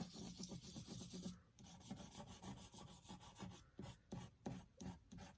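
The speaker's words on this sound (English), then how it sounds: "I'll take just the end of a paintbrush and maybe scratch and scrape." The end of a paintbrush scratches and scrapes at paint on a journal page, giving a close, raspy rubbing that runs steadily and then breaks into short separate strokes.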